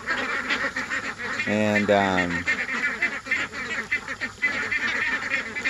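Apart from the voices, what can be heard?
ducklings calling, six-week-old ducks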